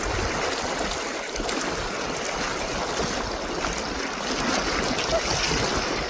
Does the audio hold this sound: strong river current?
yes